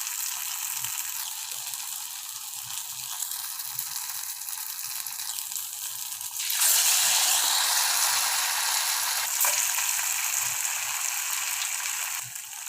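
Leftover idli shaped into vadas frying in hot oil on a stove over a slow flame, a steady broadband sizzle that jumps louder and brighter partway through as more pieces hit the oil, with no talking.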